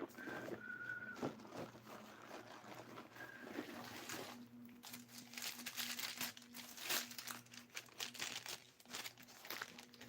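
A plastic bag crinkles and rustles nearby in irregular, crackling bursts as someone rummages through it for a harmonica, against a low steady hum and a faint intermittent whistle-like tone.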